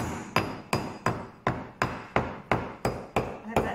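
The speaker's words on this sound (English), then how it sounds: "Okay, so turning that over, you can see just tapping that" A hammer taps a nickel silver ring on a steel ring bender (mandrel), striking about ten times in a steady rhythm, loud and close with no talking.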